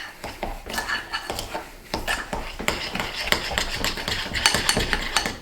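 A homemade sugar scrub mixture being stirred in a bowl, with a spoon scraping and clinking against the sides in quick irregular strokes, close and fairly loud, with no voices.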